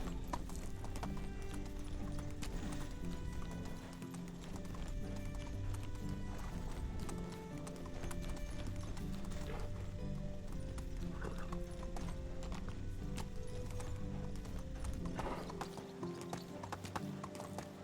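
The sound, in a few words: horse hooves galloping in the video game Medieval Dynasty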